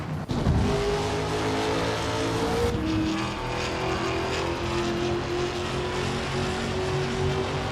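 Trans Am race cars roar past on a circuit, a continuous loud engine drone with a sharp burst of acceleration early on, steady high-pitched whine sustained throughout.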